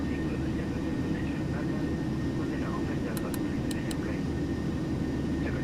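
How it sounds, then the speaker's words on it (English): A Boeing 737-800 in a flight simulator rolls for a long takeoff from Tenerife, its engines giving a steady, loud, broadband roar. A few short high chirps come late, and a voice talks over it. "Well, that was a long takeoff roll"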